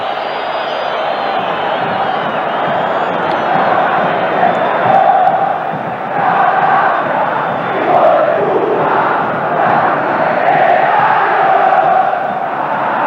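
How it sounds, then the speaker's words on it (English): Football stadium crowd at a 1987–88 Argentine first-division Boca Juniors vs River Plate match, a loud continuous roar with chanting swells and whistles rising and falling across thirteen seconds. "Listen at the crowd."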